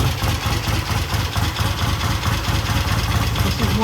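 A vintage British motorcycle engine, first started after three or four years, idles steadily and loudly up close, its low, lumpy rumble continuous throughout.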